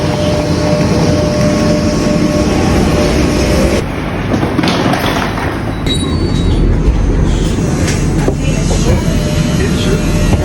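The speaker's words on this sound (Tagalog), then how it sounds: "Dito na tayo sa loob ng train, guys." Riding inside a train bound for the airport: a loud, continuous rumble of wheels and car body fills the whole stretch, with occasional squeals and rattles and no clear talk.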